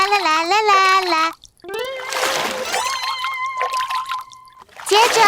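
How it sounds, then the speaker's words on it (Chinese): Bath water splashes and trickles in a bubble bath, heard in short bursts under a cheerful sung melody that carries most of the clip. "先洗个泡泡澡"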